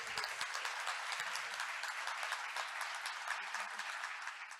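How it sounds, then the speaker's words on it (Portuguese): An audience applauds steadily, a dense wash of clapping hands that holds for several seconds before starting to taper off. "Palmas para ele."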